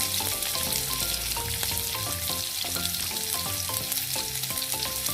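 Chopped green chilli, garlic, ginger and onion fry steadily in hot oil, giving a continuous close sizzle with faint stirring scrapes throughout and no voices.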